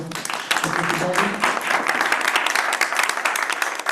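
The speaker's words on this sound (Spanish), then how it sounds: "un aplauso a nuestros expositores" Seminar audience applauding the speakers at a university psychology event, a dense, steady wash of many hands clapping for the full four seconds with some talk mixed in.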